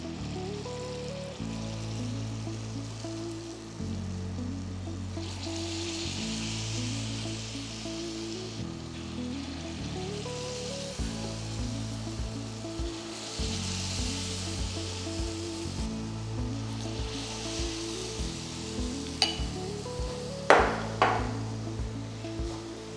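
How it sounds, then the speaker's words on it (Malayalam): Unniyappam batter frying in hot oil in the wells of an appam pan, a steady close sizzle and bubbling throughout with a few metallic clinks near the end. "എണ്ണ ചൂടായി കുറേശ്ശെ ബാറ്റർ ഓരോ കുഴിയിലൊഴിച്ച്"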